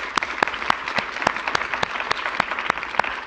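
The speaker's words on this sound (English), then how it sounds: "I look forward to all of you joining me in a hand of applause for our speaker," A seated audience applauds a keynote speaker, Dr. Julie Martin Holland, at a healthcare workforce talk. Steady, dense clapping fills the hall, with sharper individual claps standing out close by, and no voices over it.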